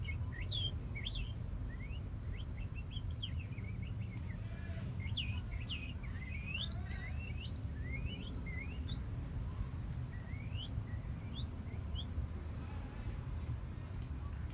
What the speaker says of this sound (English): Oh, bird sounds?